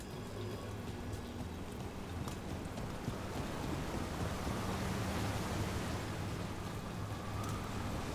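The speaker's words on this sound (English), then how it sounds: "By the waterfall." Waterfall in the video game Dragon Age: The Veilguard, a steady broadband rushing of falling water that swells slightly midway, soft and distant-sounding, continuous with no voices.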